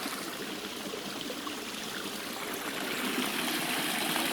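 A rain-swollen creek flows steadily, a constant broad rushing and gurgling that grows slightly louder toward the end, with no voices over it.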